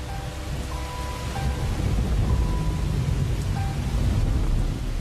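Heavy rain roars steadily across the whole stretch with a low rumble of thunder beneath it, broad and continuous, during a hot-city downpour; a few faint tonal sounds sit far in the background and no one speaks.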